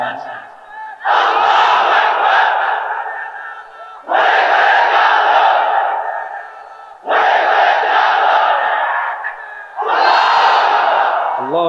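A crowd of married men at a religious gathering shouts takbir in unison, four loud, roaring group shouts of about two to three seconds each, separated by short pauses.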